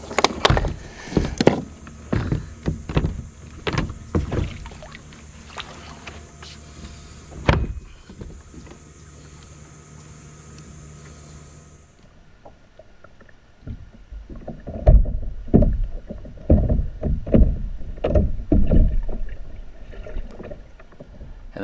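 A Hobie Revolution 13 kayak's pedal drive works back and forth, giving soft splashing, knocking and mechanical thumps close by, with a quiet stretch in the middle before the rhythmic pedal noise returns.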